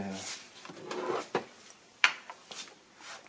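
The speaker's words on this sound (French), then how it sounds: "Donc là maintenant on remet le panneau de porte." The rear door panel of a 2006 Audi A3 is fitted back on with a few sharp plastic clicks and knocks, one especially loud, mixed with rustling handling noise while someone talks.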